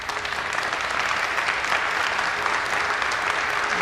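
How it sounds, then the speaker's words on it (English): Audience applause for committee members and volunteers at a town hall mapping meeting in Mattoon, a dense, steady roomful of clapping holding even for about four seconds. "let's give them a round of applause."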